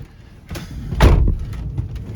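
Strong wind buffets a parked car near a fishing spot: a low, rumbling roar with gusts and a heavier thump and rattle about halfway through, steady and fairly close.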